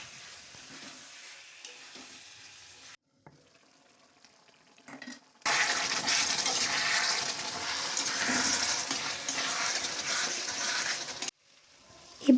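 Water is poured into a hot pan of Odia-style fish curry with fried potatoes and cooked spice masala, setting off a loud, broad sizzling hiss that runs for several seconds after quieter stirring and frying sounds.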